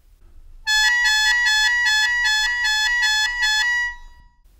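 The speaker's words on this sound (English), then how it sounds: "A trill, such as the ones played on the piano between two notes, is possible" A shō, the Japanese free-reed mouth organ, trills rapidly between two notes like a piano trill, a bright reedy buzz pulsing evenly for about three seconds before cutting off, close and clear with no voices.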